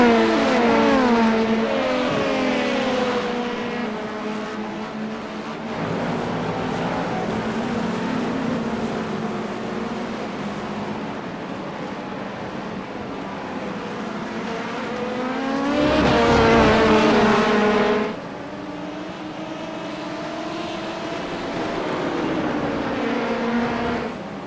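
An LMP2 prototype race car in an IMSA racing video game, its engine loud and continuous with rising and falling revs through gear changes and a brief louder surge, playing alone.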